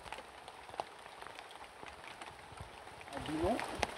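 Rain patters steadily on a lake while fishing outdoors, fairly faint, with a brief voice or squeak near the end.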